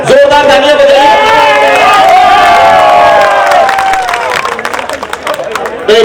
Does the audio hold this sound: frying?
no